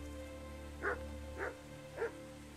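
A dog barking in the medieval video game Kingdom Come: Deliverance, three distinct, moderately loud barks spaced about half a second apart over a low steady ambient drone.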